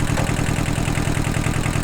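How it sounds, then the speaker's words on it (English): Tractor engine running steadily while towing a farm gate on an off-grid property in Portugal, a close, loud, even mechanical chug with a fast regular pulse and no voices. "This tractor is an absolute legend. It just tows anything."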